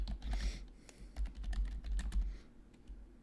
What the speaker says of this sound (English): there's no point in me typing